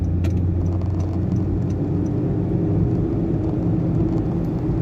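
A 2019 Honda Jazz with a 120-horsepower engine accelerating at half throttle, a steady loud low drone and rumble from inside the cabin, holding constant without voices.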